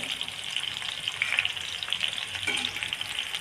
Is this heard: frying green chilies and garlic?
yes